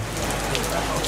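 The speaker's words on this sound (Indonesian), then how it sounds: "kebetulan hujan" Steady rain patters on surfaces outdoors during a nighttime religious gathering in December, a dense continuous hiss of drops heard close and moderately loud.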